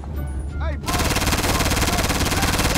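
Rapid automatic gunfire from Grand Theft Auto V bursts in after a short stretch of game sounds and speech, then runs as a loud, continuous rattling stream of closely spaced shots to the end.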